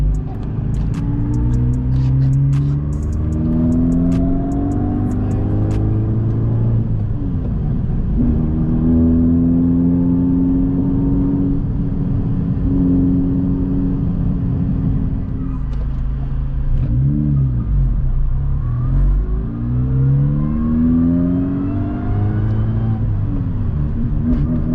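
A Honda Civic Si with a PPG gear set and stage 3 six-puck clutch driving, its engine droning and rising in pitch through repeated gear pulls, with whining gear noise over a loud, constant interior rumble.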